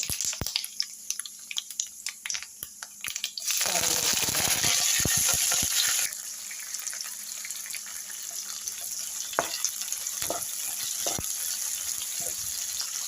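Fenugreek seeds and chillies sizzle in hot oil for lime pickle, a close crackle and spatter that swells into a loud, dense hiss before settling into a steadier sizzle.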